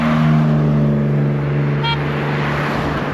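A vehicle drives fast along a road in The Gambia, a steady engine hum and tire noise held close and loud throughout, with a brief tonal whine near the middle.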